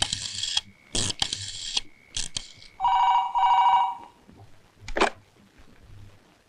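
An old-style telephone bell rings in loud bursts separated by short gaps, mixed with a buzzing tone and a few mechanical clicks, fairly close, on a comedy stage.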